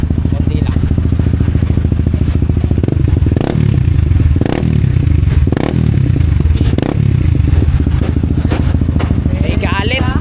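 A Yamaha Winner X motorcycle fitted with a Replica Pro exhaust pipe idles close by, then several sharp throttle blips rise and fall over a steady engine rumble, with occasional clatter and a brief voice near the end.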